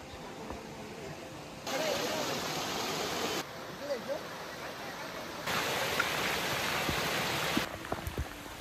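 River stream rushing at a river crossing near Devkund Waterfall after recent rain, a broad steady roar that swells louder in two long stretches, with soft thuds and brief voices in the quieter gaps.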